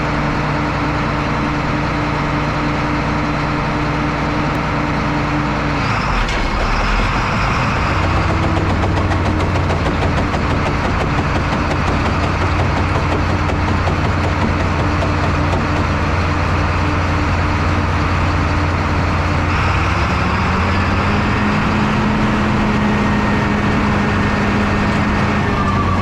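Flax processing machine running steadily and loudly throughout, a continuous mechanical drone with low humming tones that shift in pitch a couple of times, no talking.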